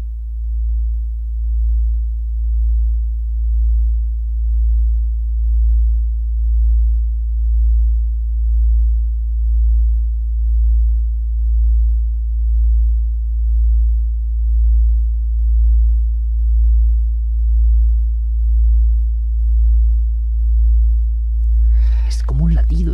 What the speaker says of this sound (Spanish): Este es un sonido de 56 hercios